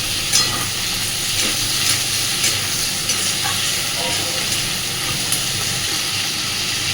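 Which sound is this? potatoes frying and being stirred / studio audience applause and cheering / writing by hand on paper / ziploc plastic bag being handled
potatoes frying and being stirred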